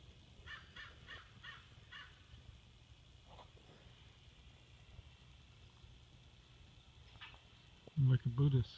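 A crow or raven caws outdoors, a short series of rhythmic calls at a distance, heard under steady background noise and followed by louder close handling sounds.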